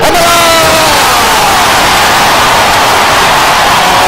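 A home crowd cheers and roars at a Delaware vs. James Madison college basketball game, a loud, continuous wash of voices filling the arena without a break.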